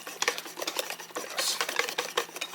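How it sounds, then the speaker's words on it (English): A pot stirred by hand at a campground, quick faint scraping and clinking strokes in an uneven rhythm, quiet and close with no voices. "trying to stir this with my bad left hand"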